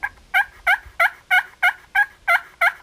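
Box or paddle turkey call worked by hand to imitate a turkey: eight evenly spaced, sharp, raspy yelping notes in a steady rhythm, loud and close with no other sounds.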